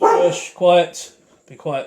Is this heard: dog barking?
yes